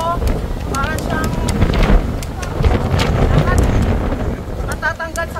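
Strong wind buffets the microphone during an open e-trike ride around Boracay, a loud steady roar with a motor hum beneath and people talking over it.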